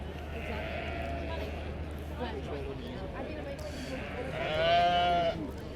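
Sheep bleat at the Royal Highland Show, a clear bleat rising near the end over steady crowd murmur and close talk.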